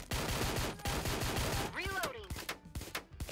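Gunfire in the video game Door Kickers: Action Squad, a rapid rattling burst of shots in quick succession followed by a few scattered single shots, close and loud, with a brief electronic tone in between.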